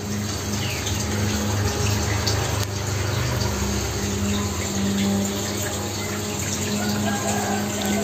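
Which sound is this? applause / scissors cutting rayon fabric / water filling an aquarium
water filling an aquarium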